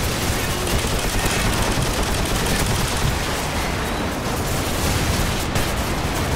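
Dense, continuous gunfire roars through a match of the PC game Quest for Commander, loud and unbroken, with overlapping shots and blasts that blur into a steady barrage.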